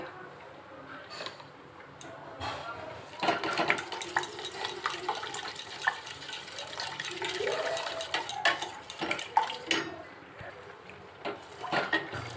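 A spoon stirs about two spoonfuls of milk powder into half a cup of water heating in a pot, making quiet, irregular clinks and watery swishes while someone talks over it.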